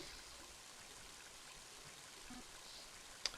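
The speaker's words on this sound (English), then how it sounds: "Mighty heavy rain, isn't it?" Heavy rain in the Mother 3 video game, a steady, quiet broadband hiss of downpour with one brief sharp tick near the end.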